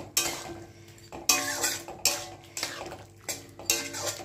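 Pots and utensils clatter in a home kitchen as a little water and small tangra fish go into a pan for a chachchori, several sharp metallic knocks at a steady rhythm, close and fairly clear with no voices.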